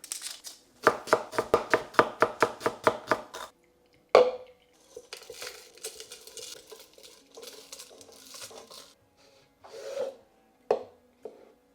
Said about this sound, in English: I am going to roughly chop 1 onion